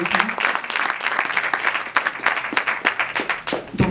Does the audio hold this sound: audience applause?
yes